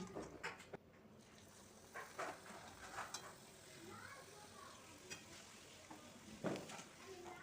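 Chana dal stuffed puris deep-fry in hot oil in a kadai, a quiet background sizzle broken by clinks of a slotted spoon and utensils, with faint room noise throughout.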